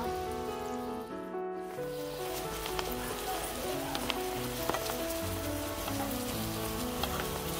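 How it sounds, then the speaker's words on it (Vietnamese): Balut duck eggs fry in a hot pan with a steady, dense sizzle and crackle that continues throughout at moderate level, with faint stirring sounds and no clear talk. "bây giờ mình sẽ chiên cho vàng lên là được nha các bạn"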